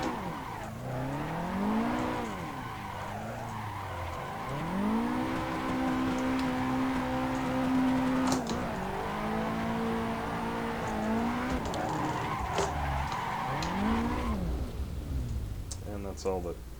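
Car drifting in the Assetto Corsa racing game on the WDT Street Pack track: an engine revs and drops repeatedly through shifts under long tire squeal and skidding, loud and continuous, with a voice talking over it.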